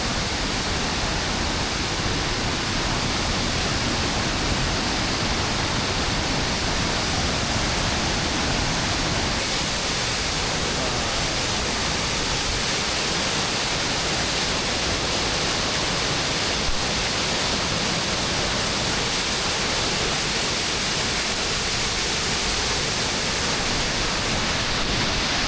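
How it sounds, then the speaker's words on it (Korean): A steady, full roar of a waterfall in Sri Lanka swollen by heavy rain, loud and unbroken throughout, with no voices. "첫 번째 폭포에 왔는데 너무 멋있습니다."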